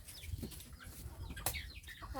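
Chickens cluck softly and intermittently at a distance, faint irregular calls over rustling background noise.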